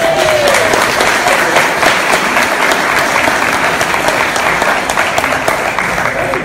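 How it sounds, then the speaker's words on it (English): Sustained audience applause at a public training event, steady dense clapping filling the room from start to finish at fairly loud level, with no speech over it. "let's give him a round of applause."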